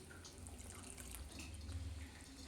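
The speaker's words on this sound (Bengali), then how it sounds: "শুধু বাটিটা ধুয়ে একটু জল দিয়ে দিচ্ছি" Faint running water from a tap as a bowl is rinsed and a little water poured, a soft continuous splashing close by with no talk.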